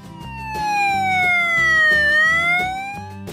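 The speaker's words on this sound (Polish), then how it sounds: "Srebrny samochód policyjny." A silver police car's siren rings out loud and close, one long descending then rising sweep over a rhythmic musical backing, without any voices.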